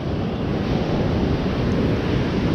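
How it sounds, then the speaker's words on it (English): Big Gulf surf crashing onto the beach at Fort Morgan, Alabama, a loud continuous roar of breaking waves with wind buffeting the microphone throughout. "Where those big waves come from?"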